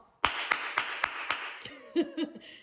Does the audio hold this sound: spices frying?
no